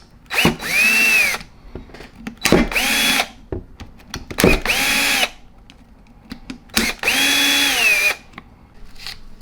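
A power driver backs out T15 Torx body screws from a Matco MT2120 3/8-inch air impact wrench, four loud whirring bursts of about a second each, motor pitch rising and falling, separated by short pauses with clicks and handling noises.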